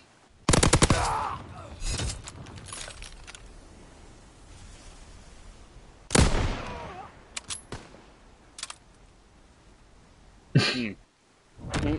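Sharp shots ring out in an online shooter game during sniping, several isolated loud cracks separated by quiet stretches, with a few smaller pops between them.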